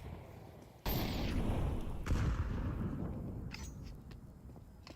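Grenades bursting during a Counter-Strike pro match on the Nuke map: a sudden loud blast followed by a second boom, then a rumbling, crackling tail as the explosions fade.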